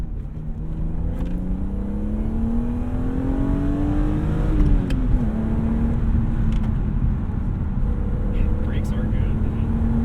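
A stock 1998 BMW E36 M3 sedan engine heard from inside while driving, pitch climbing steadily through second gear, then a shift and a steadier drone, with some cabin noise.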